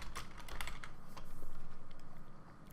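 Rapid keystrokes on a Windows computer keyboard, a quick run of close, crisp clicks typed alone at a steady pace.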